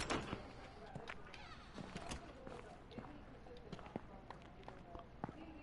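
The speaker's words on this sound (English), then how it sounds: "You can hear the footsteps." Running footsteps in a PS4 video game, a quick run of soft steps under steady ambient game noise with a few sharper knocks.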